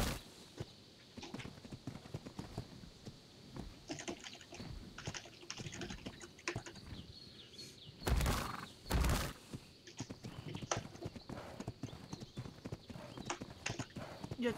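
Horse hooves clip-clop in the video game ARK Survival Evolved, a fast, steady run of hoof beats mixed with busy computer keyboard clicking and a couple of louder bursts partway through.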